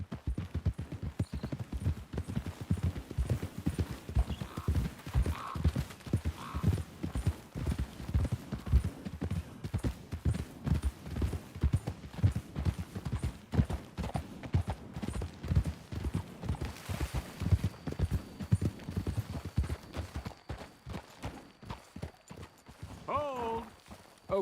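Horses ridden in Red Dead Redemption 2, their hooves clip-clopping in a steady close rhythm for over twenty seconds, with a brief whinny near the end and voices speaking over the hoofbeats.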